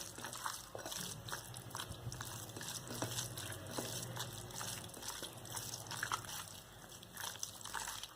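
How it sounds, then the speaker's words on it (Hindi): Hands knead and mix chhena dough with a little added water, giving soft wet squishing and slapping sounds that repeat irregularly and close up for several seconds, with no talking. "अब मैं इसे अपने हाथ से अच्छी तरह से मिक्स करते जाऊंगी।"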